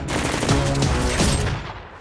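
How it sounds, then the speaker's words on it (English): A movie trailer for an action-comedy cop film carries loud, close bursts of rapid automatic gunfire that fill the whole clip before fading out. "Well, come on, Cap, you know I shot some people."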